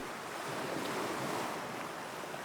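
Ocean waves wash steadily onto a shore, a soft continuous surf rush with gentle swells and light wind, fairly quiet and alone without voices.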